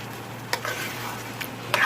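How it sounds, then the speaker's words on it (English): Beans frying in a pan are stirred steadily, a constant sizzle broken by a few sharp scrapes and knocks of the spoon, close and alone. "when you fry it like this, you need to make sure you keep it stirring on the way"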